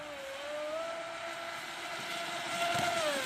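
Proboat Recoil 2 RC speedboat running on water, a steady high-pitched electric motor whine heard from a distance, its pitch drifting slightly as it runs.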